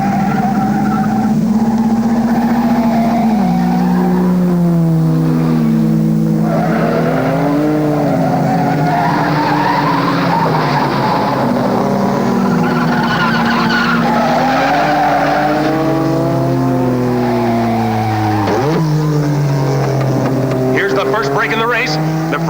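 Race cars from a 1954 motor race, among them a Ferrari, skid and roar at speed, their engine notes rising and falling with sliding tyre squeals, loud and continuous under a musical score.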